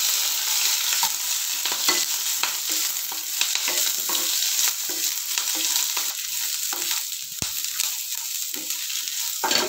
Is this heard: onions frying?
yes